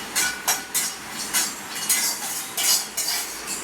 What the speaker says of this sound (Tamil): நம்ம இப்போ பாதாம், முந்திரி, வால்நட் இந்த 3ஐயும் நம்ம ஒன்றாவே வறுத்துக்கலாம்